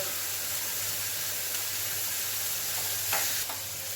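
Seasoning being tempered in hot oil for a roasted brinjal and tamarind kootu gives a steady, moderately loud sizzling hiss over a low hum, with a few brief stirring scrapes near the end and no talking.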